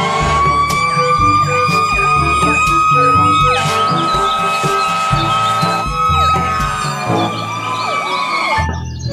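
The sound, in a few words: toy fire truck siren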